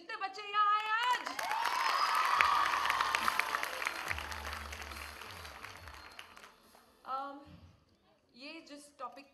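A crowd with many children at an ambassador program launch bursts into loud applause and cheering that swells and then fades, with talk before and after.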